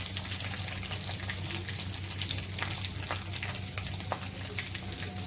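Onions frying in a pan for chuda upma make a dense, continuous close sizzle with crackles and light stirring scrapes, steady at a moderate level with no talking.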